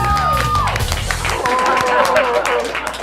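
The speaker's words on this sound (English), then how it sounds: "So let's give a big round of applause for John Scullin" An audience at a live show breaks into clapping and cheering that swells after a voice fades out, with scattered whoops over dense applause.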